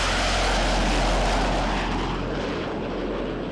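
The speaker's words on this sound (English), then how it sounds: "And Thumper's low transition, high performance climb to the split S." A Blue Angels jet roars loud and continuous through a high-performance climb after a low transition, a dense broadband engine rush that fades slightly toward the end.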